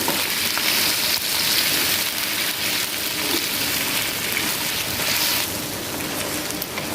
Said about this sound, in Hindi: हमारा गोश्त फ्राई हो रहा है।